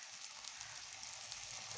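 An egg tikki (shami kebab) fries lightly in a small amount of ghee, giving a steady, soft, hissing sizzle that stays faint and even throughout, with no voices.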